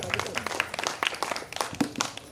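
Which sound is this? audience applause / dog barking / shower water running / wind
audience applause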